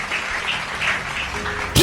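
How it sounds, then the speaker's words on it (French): A church congregation applauding for Jesus during a sermon, a dense burst of clapping that holds steady for a couple of seconds before cutting off sharply. "Est-ce que quelqu'un peut acclamer pour Jésus?"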